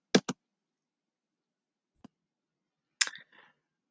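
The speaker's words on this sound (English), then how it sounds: "go ahead and click on the library tab" Two quick computer mouse clicks on a library tab land close together near the start, followed by a faint single tick and a brief soft rustle, in an otherwise quiet room.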